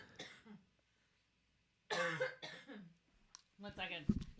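A few short coughs and throat-clearing bursts separated by pauses, close and fairly quiet, with a sharp click near the end.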